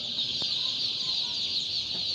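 Crowds of layer chicks cheep together in a shop, a constant high-pitched chorus, dense and unbroken, fairly close.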